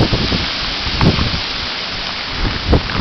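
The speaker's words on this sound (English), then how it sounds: "You can hear the rain." Heavy rain pours at night during Hurricane Irene, a loud dense roar with gusty bursts and thumps buffeting close to the microphone.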